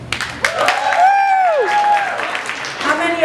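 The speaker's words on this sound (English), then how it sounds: "Round of applause." Audience at a stand-up comedy show claps and cheers briefly, a burst of applause mixed with crowd noise and a voice speaking over it.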